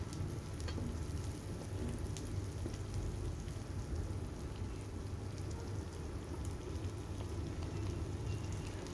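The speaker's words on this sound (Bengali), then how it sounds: "পেঁয়াজ বা রসুন আছে সেই জন্য একটু বেশ খানিকক্ষণ সময় নিয়ে এটাকে ভেজে নিতে হবে।" Onion and garlic frying in a pan, giving a steady, dense crackling sizzle that stays even and quiet throughout, with no talking.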